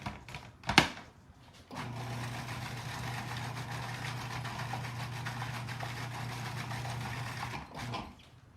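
A kitchen blender whirs steadily at moderate volume as it gives green goddess dressing with herbs one more spin, a low, even hum lasting several seconds after a short clunk at the start.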